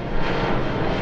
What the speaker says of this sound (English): you can watch planes flying the friendly skies